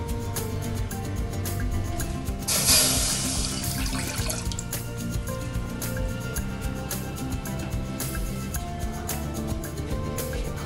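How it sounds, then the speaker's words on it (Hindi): Water splashes briefly into a cooking pot for sugar syrup for sooji halwa, a short loud gush standing out from a steady kitchen hum, with no voices. "अब मैं यहाँ पे पानी शामिल करूँगी।"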